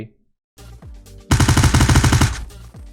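A weapon in Unturned fires a rapid, loud burst of automatic shots after a short silence and a few mechanical clicks, the rounds close and evenly spaced.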